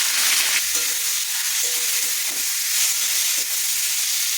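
Onion and prawns frying in oil in a wok, a steady broadband sizzle with occasional stirring clinks and scrapes, close and fairly loud throughout.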